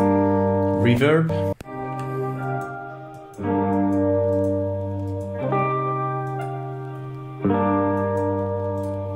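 Sustained synth tones of an FL Studio melodic trap beat ring out with a washy, reverberant tail, new chords entering every few seconds.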